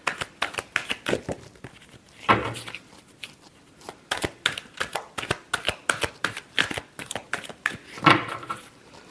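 Tarot cards are shuffled in quick, crisp riffling bursts, close and fairly loud, with short pauses between the runs.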